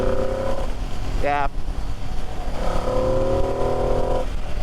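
A 2025 Ducati Panigale V2S lugs along at low revs in sixth gear on the road, a steady loud low drone with wind noise, a rider's voice speaking briefly over it.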